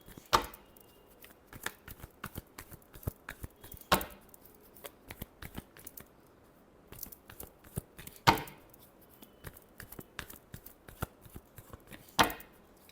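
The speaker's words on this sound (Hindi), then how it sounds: "Last shuffle." Tarot cards being shuffled by hand in a quiet room, faint riffling and shuffling with a few sharper slaps spaced several seconds apart, no voices.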